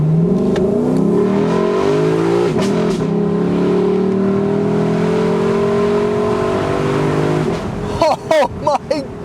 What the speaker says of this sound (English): I was waiting to talk so you could just hear how good this engine sounds.